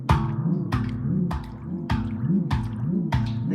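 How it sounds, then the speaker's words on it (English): A handpan played with a hand cupping and uncovering its bottom hole: a steady run of struck metallic notes, about two per second, each with a swooping, wah-like bend in its low ring. The notes are close and clear, with no voices. "I like to take my hand and just cover up the hole and kind of make some cool sounds like this."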